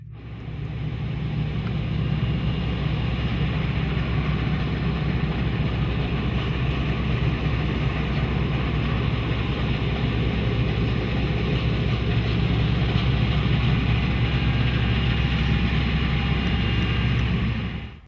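Big Massey Ferguson tractors rolling across arable and grassland fields give a continuous, even engine drone with deep low rumble, steady and unbroken throughout.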